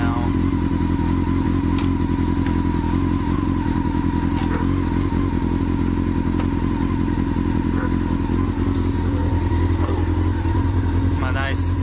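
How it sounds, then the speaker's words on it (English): A motorcycle engine idles steadily and loudly after its choke is eased back, a constant low rumble with faint clatter throughout and no pauses. "Let me kill the choke a little bit. There we go. But she runs pretty good."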